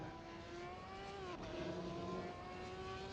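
A single-seater FIA F3 race car engine in Assetto Corsa at Silverstone drones steadily at high revs through the corner, holding a buzzing note with a brief dip before pulling on again, loud and continuous with no talking.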